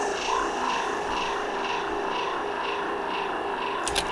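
Dark, looping background effect from a trance track pulses evenly at moderate level, a murky sustained texture repeating in a steady rhythm with a short bright flicker near the end.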